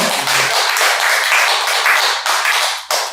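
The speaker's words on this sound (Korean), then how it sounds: "하나님께 영광의 박수 올려드릴까요?" Church congregation clapping together in glory to God during a Sunday sermon, a loud, dense round of applause filling the room, briefly dipping near the end before resuming.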